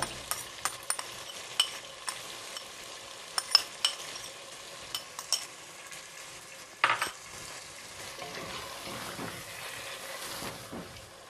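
Yogurt being stirred into a sizzling, frying biryani masala for spicy chicken biryani: a steady frying hiss with scattered clinks and scrapes of a spoon against the pan, and no talk.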